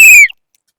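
A loud, shrill whistle blast during a Christmas party game, short and piercing, cut off sharply after about a quarter second, then silence.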